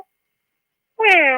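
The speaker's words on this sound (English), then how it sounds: "The cat's calling." A cat meows once over a telephone line into a radio call-in show, a single clear, drawn-out call after a moment of silence.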